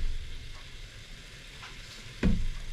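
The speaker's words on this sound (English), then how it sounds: "while the onion's frying" Onion and pumpkin fry in a pan for a tandoori masala curry, giving a quiet, steady sizzle with a louder clatter near the end, as if a utensil stirs or knocks the pan.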